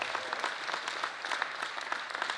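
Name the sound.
applause for offensive lineman Asher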